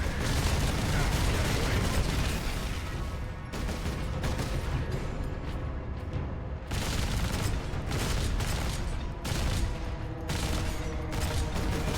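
Dense bursts of gunfire, booms and mechanical clatter from the video game Warhammer 40,000: Space Marine, loud and continuous across the whole stretch, with brief lulls between volleys and no speech.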